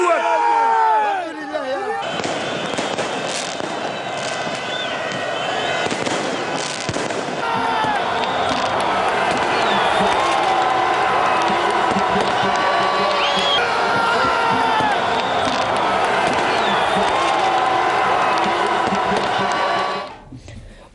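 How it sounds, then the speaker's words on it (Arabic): Crowd of football fans celebrating in Cairo after a national team's historic match win, a dense sustained roar of cheering and chanting with firecracker-like pops and bangs, loud and continuous for about eighteen seconds before cutting off. "دوت هتافات الأنصار الذين توافدوا إلى القاهرة لتشجيع المنتخب الوطني"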